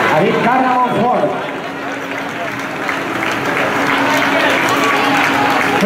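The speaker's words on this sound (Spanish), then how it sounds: "Aplauso para el atleta también" Outdoor crowd at the finish of a mountain race applauds an arriving runner, a steady dense wash of clapping and cheering that fills the whole stretch, with an announcer's voice talking over it at the start.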